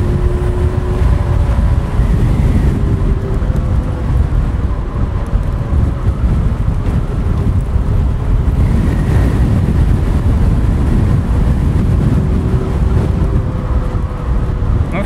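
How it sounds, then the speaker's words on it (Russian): Heavy headwind buffets a microphone on a moving Kugoo M4 Pro electric scooter, a loud continuous roaring rumble with gusty swells and some road noise underneath. "Какой же ветер встречный."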